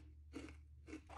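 Two distinct crunches of someone biting into crisp Honey Nut Cheerios cereal, close and quiet, spaced about half a second apart.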